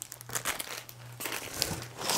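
A plastic bag for an iPhone 13 case crinkles and crunches close by as it is handled, in irregular bursts of rustling.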